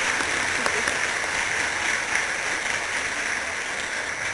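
Audience applause at a law institute convocation for graduating students: a dense, steady wash of many hands clapping, fairly distant and even in level throughout, with no voices over it.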